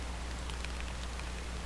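Rain in The Sims 3 falls as a soft, steady patter with faint scattered drops over a low constant hum, even and unbroken for the short stretch.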